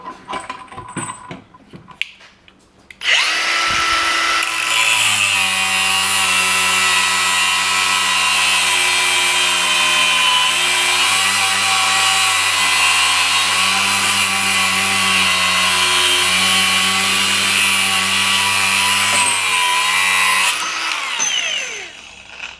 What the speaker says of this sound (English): you're looking at about 1 minute to cut through this chain with an angle grinder like that to make 2 full cuts